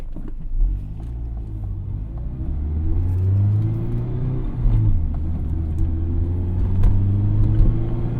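A Mazda Miata ND1 cruises at highway speed on Interstate 95, its engine and road rumble droning steadily and close, with tire roar and a gently rising and falling engine note throughout.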